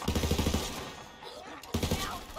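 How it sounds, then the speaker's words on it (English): Gunfire in the video game Borderlands 3: a rapid burst of automatic shots, a lull with a lone report, then another quick burst, loud and close. "See if we can get some shots from up here."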